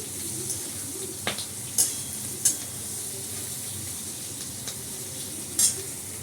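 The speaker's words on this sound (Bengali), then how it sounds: "একটুখানি হবে, পেঁয়াজটা একটু ভাজা হবে।" Onions fry in a pan for chilli chicken, giving a soft, steady sizzle broken by a few sharp clicks and scrapes from a stirring utensil, with no talking.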